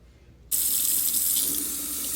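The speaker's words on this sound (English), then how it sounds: "You can spray it with water to wash it" A removable Frigidaire dishwasher filter rinsed under a running faucet: water bursts on abruptly after a half-second of quiet and then gushes steadily and loudly, a broad hiss that continues to the end with no talking.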